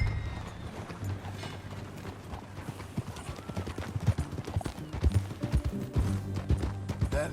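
Horse hooves clip-clopping in Red Dead Redemption 2, a steady rhythmic trot of repeated hoof strikes, moderately close and growing more prominent, with game ambience underneath.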